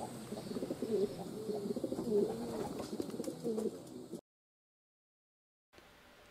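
Pigeons coo repeatedly in soft, rolling phrases outdoors, fairly close, among light background noise, before the sound drops out into silence and faint ambience returns.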